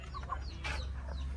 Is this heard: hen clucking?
yes